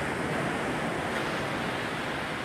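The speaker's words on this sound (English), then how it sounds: "to the sounds of the oceans, and you can see the waves behind me" Ocean waves break on a beach with seabirds around, a steady, loud wash of surf and wind noise that fills the whole clip with no talk.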